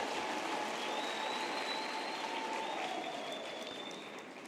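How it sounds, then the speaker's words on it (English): Audience clapping at a university graduation ceremony, dense steady applause from a large hall crowd lasting throughout and tapering slightly at the close, with faint tonal whistles or feedback above it. "Can we give the Chancellor a big round of applause?"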